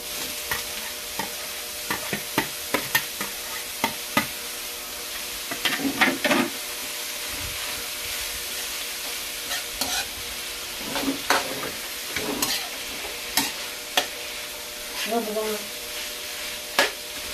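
Chicken intestines (isaw) sizzle steadily in a pan for ginataang adobo while a utensil scrapes and knocks against the metal in irregular bursts, with a few brief bubbling spurts along the way.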